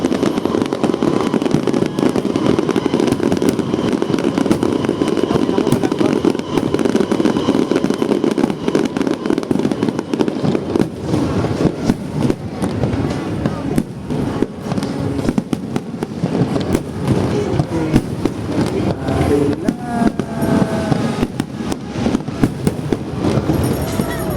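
Ferris wheel fireworks in the Philippines crackle and pop loudly and without pause, a dense, close barrage of sparks and bangs with people talking and exclaiming over it.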